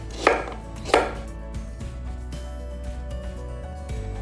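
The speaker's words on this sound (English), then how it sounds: "we can just roughly chop the ginger" Two sharp knife chops on a cutting board near the start as fresh ginger is roughly chopped, followed by quiet kitchen background with faint clatter.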